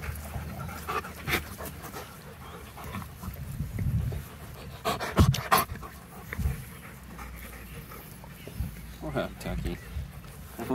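A puppy pants close by in quick, steady breaths, with a few louder huffs and bumps scattered through, while people talk over it now and then.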